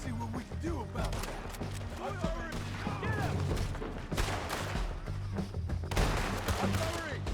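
Artillery and gunfire in Red Dead Redemption 2, a dense, continuous barrage of shots and booms running throughout at steady loudness, with voices calling out over the battle.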